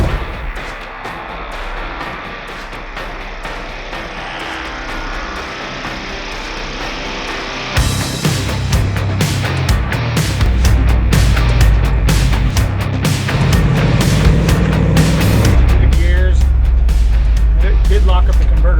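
A test truck fitted with a 700R4 transmission rolls and accelerates, its engine and road rumble building from quiet to loud, steady and close, with someone talking throughout.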